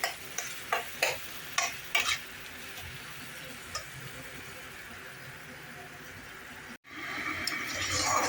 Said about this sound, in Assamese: এতিয়া মই এই আদা নহৰুখিনি ইয়াৰ লগত ধুনীয়াকৈ ভাজি ল'ম